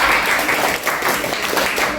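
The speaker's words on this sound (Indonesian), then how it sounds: "Berikan tepuk tangan pada Depa." Students in a classroom applaud a classmate named Depa, a dense, fairly loud patter of many hands clapping steadily with no pause.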